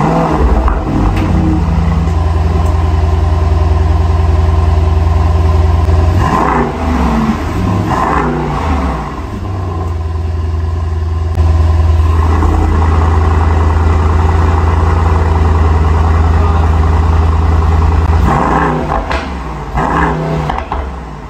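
Mercedes-AMG E63 S and GT63 S 4-door coupe engines idle with a deep, steady burble, interrupted by several short revs that swell and fall back, loud and close with no talking.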